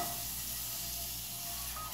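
Water rinsed over a still-warm cast iron pan gives a steady, even sizzling hiss with a low rumble beneath, close by, and no talk.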